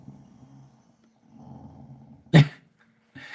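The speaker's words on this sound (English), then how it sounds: "You hear her growling?" A dog growls in low, rumbling bursts outdoors on a windy night, with a sharp louder huff or bark partway through before the growling resumes.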